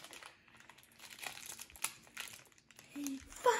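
Beyblade toy packaging being unboxed, with a steady run of close, soft crinkling and rustling that grows louder and sharper near the end.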